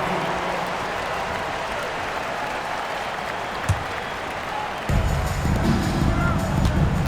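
Steady crowd applause and cheering fills a basketball arena in the video game NBA 2K26, swelling louder partway through, with an announcer's voice faintly in the mix.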